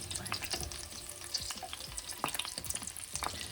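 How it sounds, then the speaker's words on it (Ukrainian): Steady crackling and sizzling of cutlets frying in a hot pan, with dense popping throughout and the occasional scrape of a utensil, no voices. "І зараз будемо накривати вже наші котлети кришкою і смажити ще 3-5 хвилин вже під кришкою."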